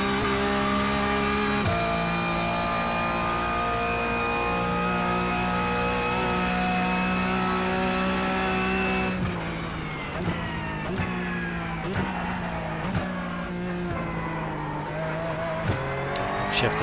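A Porsche Cup race car at VIR holds a loud, steady engine drone heard from the cockpit, then shifts to third near the middle and pulls hard with a rising, rougher roar broken by clicks and rattles.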